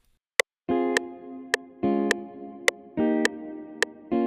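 Jazz guitar chords with reverb, programmed in FL Studio, ring out in a steady repeating pattern with sharp percussive ticks between them, each chord trailing a soft wash of tail.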